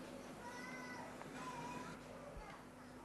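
A house cat meows faintly a few times in a quiet indoor scene from a 1977 television drama, the soft cries set against low room noise.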